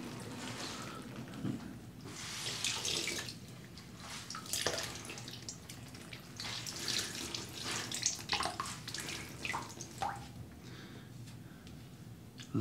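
Tap water runs into a sink while merino wool shirts are rinsed by hand, a soft splashing stream with uneven surges and sloshing as the fabric is moved under it.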